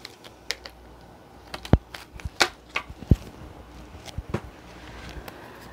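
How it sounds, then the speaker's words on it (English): Tarot cards being shuffled by hand, a sparse run of light, crisp taps and snaps at close range, irregularly spaced over a quiet background with no talking. "Shuffling for Capricorn."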